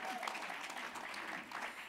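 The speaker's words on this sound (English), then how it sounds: "please give her a warm applause" A room full of people clapping, steady dense applause throughout at moderate volume.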